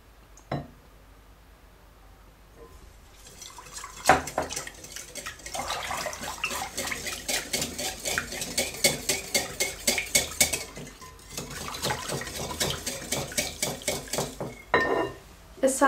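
Oils for green tea scented soap are stirred in a container, giving a steady run of rhythmic scraping and clicking strokes up close, with no talking.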